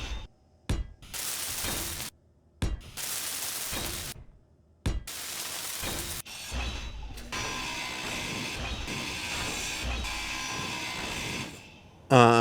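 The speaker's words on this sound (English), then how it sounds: "let's weld these blocks up quickly" A welding tool in the video game Space Engineers works on blocks, first in several harsh bursts separated by short silences, then as one long, sustained grinding hiss.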